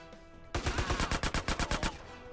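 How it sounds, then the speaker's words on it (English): Rapid bursts of automatic gunfire in GTA San Andreas, about a dozen loud, evenly spaced shots in one sustained volley that starts abruptly and then cuts off. "Who's shooting?"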